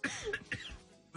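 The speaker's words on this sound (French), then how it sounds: "Me faites pas rire, je tousse." A few short, fairly quiet coughs from a radio host in a studio, broken into quick bursts with brief gaps and a softer trailing sound at the end.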